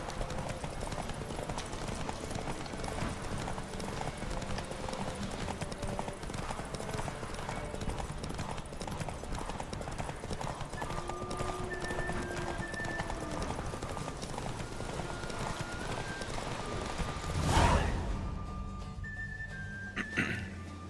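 A horse gallops in The Witcher 3: Wild Hunt. Its hooves clip-clop in a fast, continuous rhythm under soft game music, with a brief whinny and a louder burst near the end.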